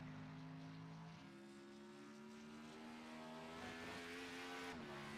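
A race car at Watkins Glen roars past with a rising, then falling engine note, loud and close, alone with no voices.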